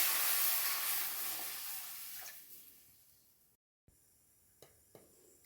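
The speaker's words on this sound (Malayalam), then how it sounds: "നമുക്കിനി ആവശ്യമായ വെള്ളം ഒഴിച്ച് കൊടുക്കാമേ" Water pours into a hot pan of fried chili powder, a loud broad hissing sizzle that fades over a few seconds, followed after a short gap by a couple of faint clinks.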